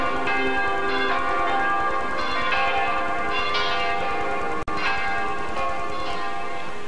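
Church bells of Saint Gregoire, a landmark in a village set on Laurentian bedrock, peal in a steady, loud, dense wash of overlapping ringing tones with no voices, broken by a momentary dropout partway through.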